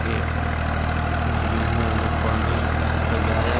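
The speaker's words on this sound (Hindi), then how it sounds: "पानी में ट्रैक्टर के साथ किस तरह कद्दू करते हैं।" A tractor engine runs steadily while puddling a flooded paddy field before rice planting, a continuous loud low rumble with no pauses and no voices.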